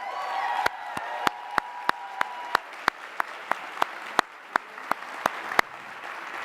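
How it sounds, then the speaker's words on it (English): At a women's empowerment breakfast, a room applauds with a soft bed of crowd clapping, while one loud clapper close to the microphone strikes sharp, evenly spaced claps in a steady rhythm throughout. "they deserve a round of applause now"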